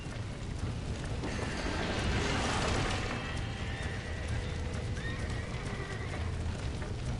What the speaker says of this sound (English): Get that horse! Get it moving! Smack that dumb horse!